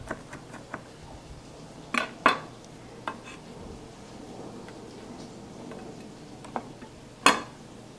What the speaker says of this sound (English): And then you just take your knife and go through it loosely a couple of times.